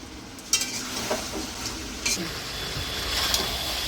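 Potatoes being sautéed with jackfruit chicken in a pan, giving a steady low sizzle with a few sharp stirring scrapes and clinks, close and moderately quiet.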